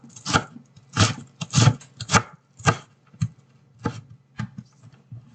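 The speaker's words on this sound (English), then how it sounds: "we're going to be cutting up this onion just like that. We're going to turn it, and we're going to cut it again" A knife chops through an onion on a cutting board in a home kitchen, sounding as a run of about ten crisp, close chops in uneven bursts, a few clustered together, with no talk.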